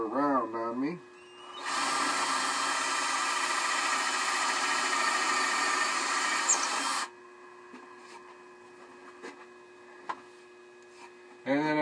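A power drill bores a 9/32 hole into a marked, center-punched wooden bowl blank, making a loud steady whine for about five seconds. Brief talk comes before it, and quieter handling noises follow.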